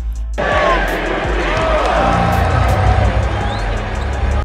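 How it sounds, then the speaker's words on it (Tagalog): A basketball arena crowd roars and shouts in unison during a Lakers–Mavericks game, a loud, dense wall of voices erupting suddenly and holding for several seconds, with shoe squeaks and court noise beneath. "Napasigaw ang crowd ng thank you Nico sa GM ng Mavs na nag-trade kay Luka"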